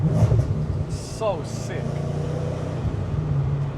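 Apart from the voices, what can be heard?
supercharged Audi RS4 Avant engine revving and pulling off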